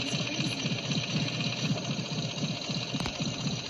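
A motorcycle engine runs close by in a movie scene, a rapid rhythmic chugging putter that stays steady and fairly loud, with a brief click near the end.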